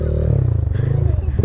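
A motorcycle exhaust rumbles loudly and close, with a rapid pulsing putter that rises briefly as the engine revs.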